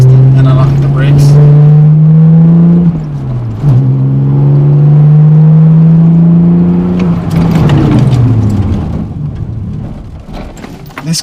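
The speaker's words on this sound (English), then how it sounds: "right now we'll go 60, and I'll hit the brakes" A BMW Z4 M with M Performance brakes drives at about 60 and then brakes hard. The engine holds a loud, steady drone, dips briefly, then falls in pitch as the car slows and quiets.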